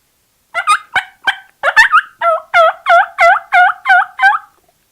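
Imitation of a turkey hen cutting, made on a hand-held turkey call: a loud, close burst of sharp, irregular clucks that runs into a quick string of about eight evenly spaced, raspy yelping notes, then stops.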